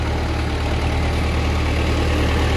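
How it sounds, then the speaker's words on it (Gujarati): An old-model Mahindra tractor, pull-started with a rope, idles with a steady low diesel rumble that holds even and continuous throughout. "ટ્રેક્ટર ચાલુ થઈ ગયો"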